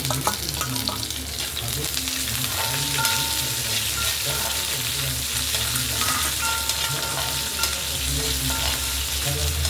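Chopped small onions and curry leaves frying in a pan for an okra fry, a loud, steady close sizzle with crackling oil and occasional stirring scrapes throughout.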